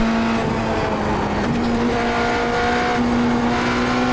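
The BMW M Hybrid V8 LMdH race car in the iRacing sim holds a loud, steady engine whine that shifts pitch through gear changes, with some tire noise underneath and no gaps.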